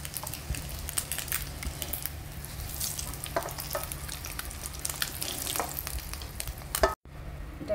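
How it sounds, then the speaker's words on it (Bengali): Eggs frying in oil in a pan over medium heat, a steady close sizzle with occasional crackles and spatters, uninterrupted apart from a brief cut near the end. "আমার ডিমগুলো ভাজা হয়ে গেছে"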